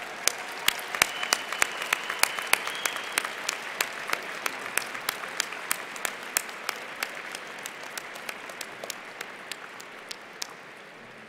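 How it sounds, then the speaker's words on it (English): Thinning audience applause at the 2014 University of Minnesota College of Science and Engineering commencement ceremony: many sharp, scattered claps that start dense and slowly taper off over about eleven seconds, with no talk over them. "Please join me in giving our original brainwashers a big round of applause."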